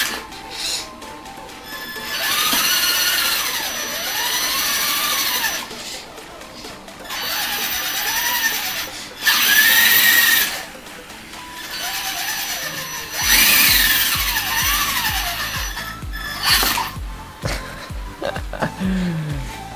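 A small electric RC crawler motor in an Axial SCX10-based FTX Carnage build whines in short throttle bursts, rising and falling pitch with pauses between, fairly close and alone.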